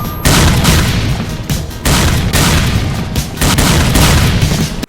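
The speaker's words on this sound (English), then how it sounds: "The grenade spam is atrocious." Grenades explode in the S.T.A.L.K.E.R. video game, with heavy booming blasts in loud back-to-back bursts, separated by brief near-silent gaps.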